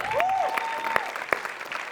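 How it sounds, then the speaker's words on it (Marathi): An audience at a Marathi comedy show applauds a performance, with brief sharp claps and crowd noise, while a sustained tone glides across the start. "श्याम्या, तुझ्यासाठी टाळ्या वाजल्या पाहिजे."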